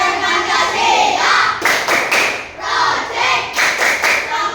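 A group claps the Tepuk Pelajar Pancasila chant during an ice-breaking session with students, with loud rhythmic bursts of hand claps in patterned clusters and a faint voice at the start.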